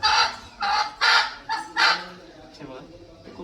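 A multicoloured native gavran hen gives a run of five loud, close clucking calls in quick succession, followed by quieter background sounds.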